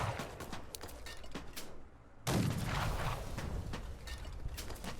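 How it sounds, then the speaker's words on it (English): Gunfire in Fallout: The Frontier, a steady stream of sharp shots and clatter over continuous battle noise, dropping briefly near the middle before a loud burst resumes the firing. "Now, who is still shooting me?"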